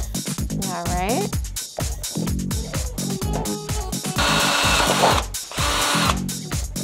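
A power drill whirs up and bites into tin set in a frame in several short bursts, then runs longer, with a voice talking between the bursts.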